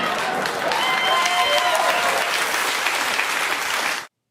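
A studio audience at Bill Maher's political talk show claps loudly in a sustained, dense burst of applause lasting about four seconds, then it cuts off abruptly.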